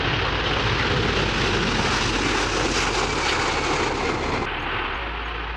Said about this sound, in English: The McDonnell Douglas KC-10 Extender, introduced in 1981, is a U.S. Air Force aerial refueling aircraft